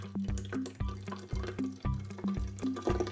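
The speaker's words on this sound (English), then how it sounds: "So we're going to fill this about halfway with plain water." Plain water poured into a clear container, a rhythmic series of gurgling glugs and splashes, close and fairly quiet, with no talking.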